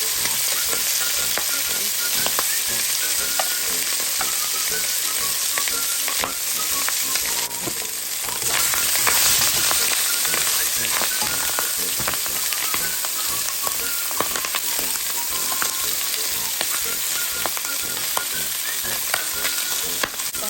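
Pork pieces fry in melted butter with pineapple in a pan, a loud, steady sizzle and crackle with occasional stirring scrapes and no talking.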